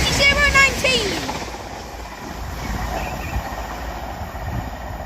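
A CrossCountry Voyager passenger train passes through Kings Sutton station, a loud close rush of wheels and engine noise with a brief squeal at the start, then a sustained rumble that holds steady; a voice speaks briefly early on.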